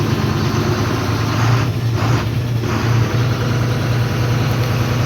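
An Ashok Leyland truck engine runs at a steady idle as the vehicle is driven out, with a loud, continuous low rumble and no talk.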